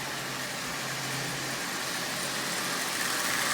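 A Marx toy train locomotive motor, assembled from salvaged parts, runs forward steadily with a constant buzzing whir, fairly quiet and even throughout, with no talking.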